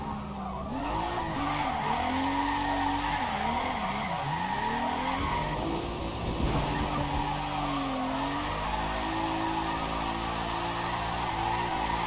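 Car drifting in the Forza Motorsport racing game, with sustained tire skids and squeals over a steady engine drone, loud and continuous throughout, and no talking.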